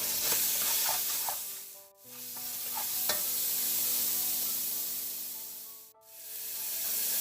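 Melted butter sizzles in a pan while food sautés for Namibian ombidi, a loud, steady frying hiss close by that cuts out briefly twice, with a few soft stirring clinks.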